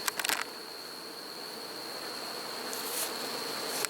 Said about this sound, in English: because there's a lot of bees in there. Check this out.